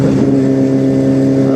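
A QJ SRK450RR motorcycle's exhaust holds a steady, loud, close-up engine drone with a deep throaty pulse and no pauses or voices.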